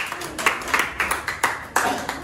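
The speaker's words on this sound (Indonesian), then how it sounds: "tepuk tangan untuk kelompok 4" Classroom applause for a student group, several bursts of hand clapping from a small crowd in rhythmic waves, with voices mixed in.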